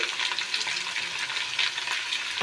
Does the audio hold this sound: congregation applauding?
no